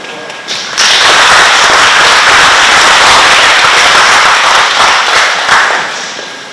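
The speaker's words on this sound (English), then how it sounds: "let's welcome him to the round of applause" An audience at the handover ceremony of the National Convention Center breaks into loud, sustained applause after a brief quiet start, with dense clapping that continues to the end.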